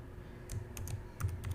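Quick keystrokes tap on a computer keyboard as a password is entered, a short burst of soft clicks in close succession in a quiet room.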